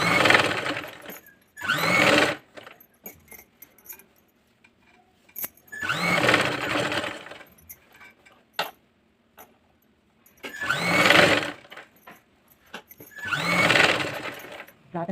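An electric sewing machine stitches around a dress neckline in four short bursts of rapid whirring, each a second or two long, separated by quiet pauses and small handling clicks.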